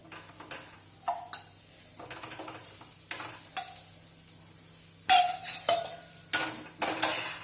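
Cauliflower paratha fries in oil on a griddle, a soft sizzle broken by repeated scraping strokes of a spatula and metal clinks that come louder and closer toward the end.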